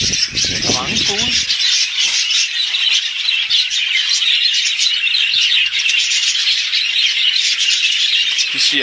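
Birds chirping and squawking at a playground, a dense high chatter running steadily throughout, with a brief voice-like sound near the start.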